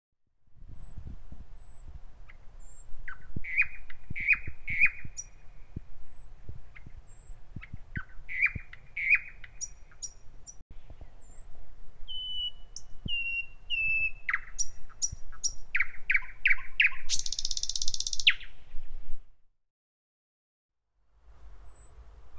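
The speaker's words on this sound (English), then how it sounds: "we found a good spot to test the microphone with a song of a thrush nightingale" A thrush nightingale sings outdoors, picked up from a distance with a 3D-printed microphone mod: loud, clear phrases of whistles, chirps and rattling notes repeat over steady background hiss, ending in a harsh noisy burst before a brief silence.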